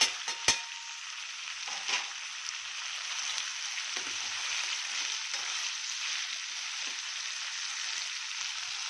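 Food frying in a pan during home cooking, a steady, moderately loud hiss that runs throughout, with a couple of sharp knocks near the start.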